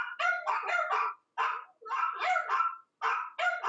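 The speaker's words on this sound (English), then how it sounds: "Is your dog disagreeing?" A dog barks in a rapid series of sharp yips and bow-wows during an online meeting, close and fairly loud, in three bursts separated by brief pauses.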